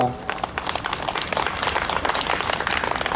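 A church congregation claps steadily and densely, a full round of applause lasting the whole moment, with a few voices mixed in.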